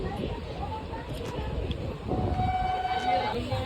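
A train rolls by with a continuous rumble and rattle, swelling louder partway through, with faint horn-like tones and people talking nearby.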